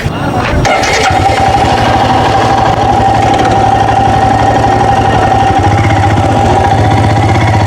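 A Royal Enfield Himalayan motorcycle engine runs steadily throughout, a loud, continuous throbbing idle with a constant low rumble and no voices.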